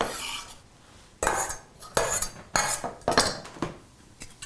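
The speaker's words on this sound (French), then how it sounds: "Je mets mes échalotes dans ma casserole." Chopped shallots go into a saucepan, several sharp clinks and scrapes of metal utensils against the pan in quick irregular bursts, close and distinct, with no talking.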